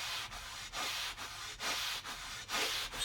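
A Scotch-Brite pad rubs back and forth on 316L stainless steel in quick, even strokes, about seven hissing scrubs with brief pauses between, close and fairly quiet.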